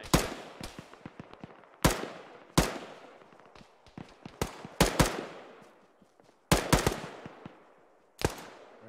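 Bursts of M4 rifle fire in ArmA 3: about seven sharp, loud, close shots and short clusters spaced unevenly across the stretch, each ringing off into a decaying tail, with fainter distant shots between.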